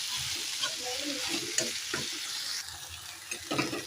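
A curry of drumsticks and cucumber is being stirred in a pan after salt goes in, with soft scraping and clinking strokes over a steady background sizzle of frying.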